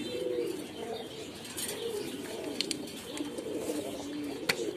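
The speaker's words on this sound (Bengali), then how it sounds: "এই যে এগুলো হলো ময়ূরপঙ্খী।" Mayurpankhi pigeons at a pigeon farm coo in low, repeated rolling calls, with occasional chirps and a soft wing flutter over a steady background hum.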